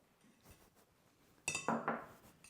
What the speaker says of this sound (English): You mix it all up like we did before